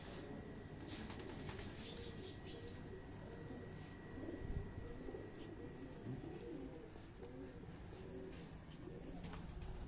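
Sialkoti breed breeder pigeons coo in low throaty repeated phrases at close range, with occasional wing flutters over a steady background hum, while people talk faintly nearby.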